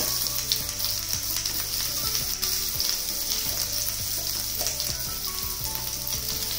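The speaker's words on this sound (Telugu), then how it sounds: "ఇప్పుడు స్టవ్ కట్టేసి ఈ కారం ఇందులో వేసి వేగనిద్దాం కొద్దిసేపు" Chili powder fries in hot oil in a pan on a stove that has just been switched off, giving a continuous bright sizzle with soft crackles and occasional stirring scrapes, close and alone.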